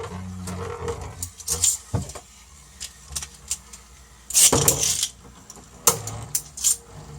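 Beyblade Burst spinning tops battle, with sharp metallic clicks and scraping clashes that come in loud irregular flurries between quieter whirring, with no talk.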